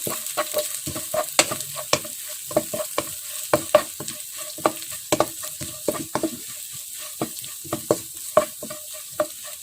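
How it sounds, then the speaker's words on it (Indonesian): A spatula stirs beef satay seasoning with torn lime leaves in a pan, making close, repeated scraping and clacking strokes in an uneven rhythm over a quiet background, with no voices. "Ini kita aduk rata."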